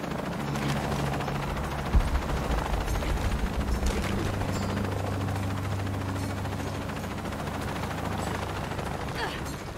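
A helicopter in the video game Shadow of the Tomb Raider gives a loud, steady rotor and engine drone throughout, with mechanical clatter and bursts of game sound layered on top.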